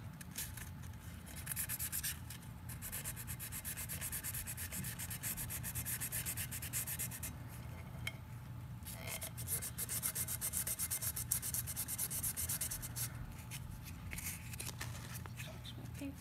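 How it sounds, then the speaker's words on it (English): Hand sanding of cured glitter epoxy with sandpaper, continuous rapid back-and-forth rasping strokes, close and steady, with brief pauses where the sanding spot shifts. "Switch where I'm sanding."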